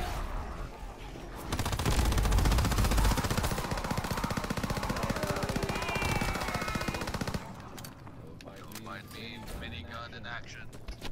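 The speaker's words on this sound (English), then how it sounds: "Minigun in action." A minigun roars in Call of Duty WWII Zombies, a loud, continuous rapid burst lasting several seconds before cutting off, with players talking throughout.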